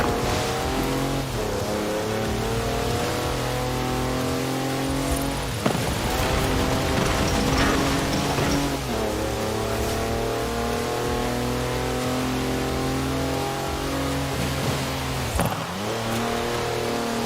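A 340-horsepower Mercedes wagon drives in the video game Forza Horizon 4, its engine roaring steadily with repeated rising rev sweeps that drop sharply at gear shifts, loud and close throughout.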